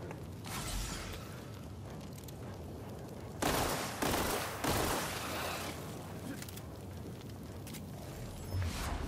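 Bursts of gunfire crackle through combat in the video game The Outer Worlds, with clusters of loud shots standing out over continuous battle noise.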